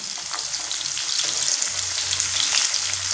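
Cut potatoes fry in hot oil in a pan after fish has been fried, making a dense, continuous sizzle with crackling bursts. A bubbling, spattering texture holds close and steady throughout, with no talk.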